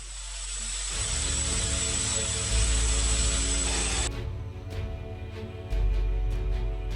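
An A-10 Thunderbolt II attack jet at an austere site gives a steady broadband engine roar with a high whine that cuts off partway through, leaving a lower rumble that surges again near the end.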